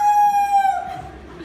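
A man imitates a rooster's crow with one loud, drawn-out, strained call that rises and then breaks off, heard up close with no other sounds around it.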